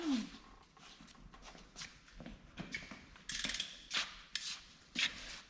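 A ratchet wrench clicks in quiet, irregular bursts while loosening an oil pan bolt in a home garage, with faint shuffling and handling noises between strokes.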